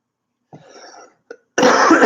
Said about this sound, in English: Oh, big cough.